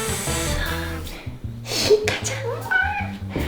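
A cat meows after a bath amid a woman's nearby speech, the cries mixing with talk over a low steady background tone.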